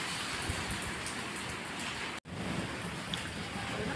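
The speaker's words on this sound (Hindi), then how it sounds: "बहुत ज़्यादा तूफ़ानी बारिश शुरू हो चुकी है" Heavy stormy rain pours down in a village, a dense, loud, unbroken roar of falling water that fills the whole clip, broken only by a momentary dropout midway.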